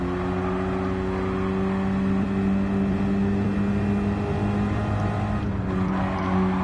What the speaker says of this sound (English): I think that's a 2-liter Supra.